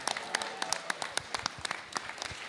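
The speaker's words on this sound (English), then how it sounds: "Massive round of applause for Ari and Frenzy." Scattered clapping from a modest audience at a beetleweight combat robot championship in Bristol, distinct individual claps rather than a dense roar, fairly quiet and irregular, with no one talking over it.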